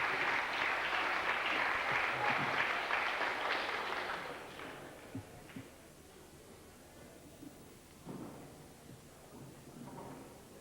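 Audience applause at a memorial concert in Roslea, loud, dense clapping for about four seconds that fades away, followed by quieter room noise with a few scattered knocks and shuffles.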